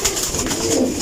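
A pigeon coos close by, a single soft, throaty coo lasting about a second with no voices.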